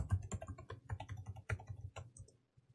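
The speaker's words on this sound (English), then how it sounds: "I'll type in my super secret password." Rapid keystrokes on a computer keyboard as a password is entered, a quick close run of clicky taps that slows and stops near the end, with no talking.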